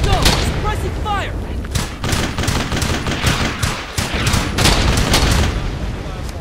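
Suppressing gunfire in the World War II shooter Brothers in Arms: Hell's Highway, with rapid, dense rifle and machine gun shots rattling continuously in close, loud bursts, mixed with shouting soldier voices.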